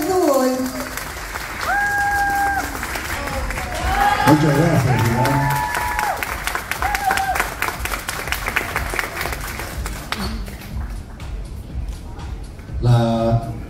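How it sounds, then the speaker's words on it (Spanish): Audience applause and cheering for award winners at a beauty academy graduation ceremony, dense clapping with whoops throughout, while a presenter speaks over it in Spanish; a fresh burst of applause swells near the end. "Un fuerte aplauso para este dúo."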